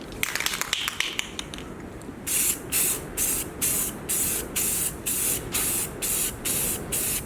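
An aerosol can sprays paint onto an RC crawler course, first in quick short bursts, then in a steady run of about a dozen regular hissing sprays, close and loud.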